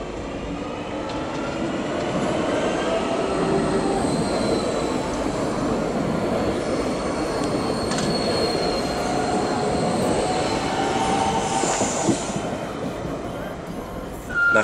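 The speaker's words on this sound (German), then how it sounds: "Der Triebwagen fährt in Ulm zur Minute 23 oder 24 an Gleis 25" An electric multiple unit train departing Ulm main station rolls along steadily with a continuous rumble and high wheel squeal, sustained throughout at close range.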